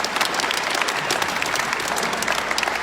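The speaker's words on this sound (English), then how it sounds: "You should give yourself a round of applause about that." A crowd at a Senate campaign rally applauds loudly and continuously, a thick roar of many hands clapping close by with a faint murmur of voices.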